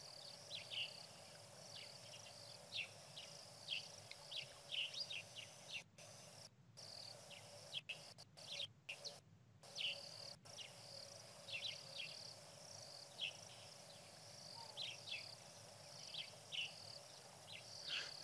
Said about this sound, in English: Sounds like some white-fronted bee-eaters are calling.